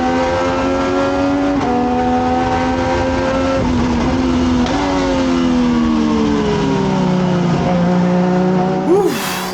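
Legends Car race cars roar together at the start of an Italian race, a dense pack of engines revving hard with rising and falling pitch sweeps, loud and close, with a brief tire squeal near the end.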